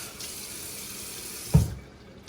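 A bathroom tap runs in a steady stream into a sink while shaving, then shuts off with a brief splash near the end.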